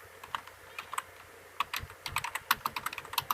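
Fingers type on a computer keyboard while writing C code, producing sparse clicks at first, then a faster, denser run of crisp keystrokes, close and fairly quiet with no talking.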